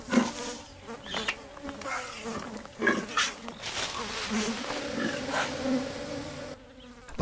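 Bees buzzing around nectar-rich flowers in the wild, a steady close droning hum with wings rising and fading as insects pass near, no talk over it.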